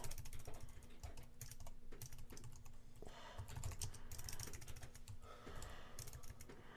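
Steady, fast typing on a computer keyboard while writing Java code, a dense run of close, crisp key clicks with brief pauses, no talking.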